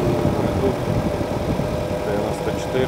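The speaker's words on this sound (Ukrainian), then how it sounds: "Моторчик вже прогрівся трохи, оберти опустив. Також працює добре." A warmed-up car engine idles at lowered revs, producing a steady, close rumbling hum that holds evenly throughout the short clip.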